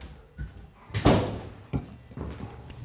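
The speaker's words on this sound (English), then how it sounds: "close the door behind me, knock on the door" A door swings shut with a solid thump, followed by a couple of duller knocks on it and light movement noise in a quiet room.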